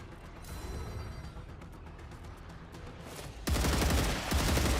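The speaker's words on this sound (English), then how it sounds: "Changing mags." Weapon reloading and magazine swaps in the StarRupture video game: mechanical clicks and ratcheting clatter over a steady game background, then a sudden loud burst of gunfire-like noise in the final second and a half.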